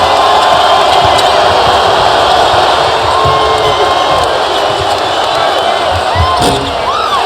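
A packed college basketball arena at an LSU versus Texas game roars steadily, with whoops and shouts rising out of a loud, continuous wall of crowd noise.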